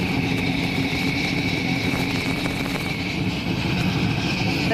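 Porsche 917 Le Mans race cars idle together at Laguna Seca, a steady dense engine rumble with a nearby crowd atmosphere, continuous and moderately loud.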